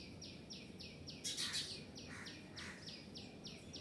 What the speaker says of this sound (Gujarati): પક્ષીઓ બોલી રહ્યા છે